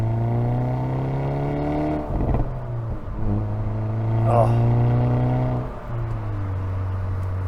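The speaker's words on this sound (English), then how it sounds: "just hearing the pure engine, the pure exhaust is the way I like to do it" A 2025 Hyundai Elantra N's engine and exhaust drone steadily while driving, a smooth harmonic hum that rises and shifts with throttle, with brief bumps and a short spoken exclamation over it.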